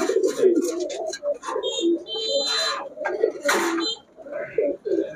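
Kaldam pigeons, including white breeding pairs kept for sale, coo close by in overlapping throaty phrases with soft wing and shuffling noises.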